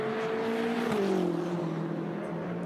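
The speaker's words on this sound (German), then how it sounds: "Auto kommt jetzt auf die Start- und Zielgerade eingebogen, dann geht es hinaus über den Zielstrich" A GT race car in qualifying at the Sachsenring turns onto the start-finish straight, its engine a steady loud drone that dips slightly in pitch as it passes, with no commentary audible.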